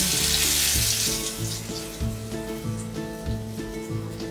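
Surmai fish kababs shallow fry in hot oil over a low flame, giving a close, steady sizzle with soft bubbling, overlaid by a repeating low background tone.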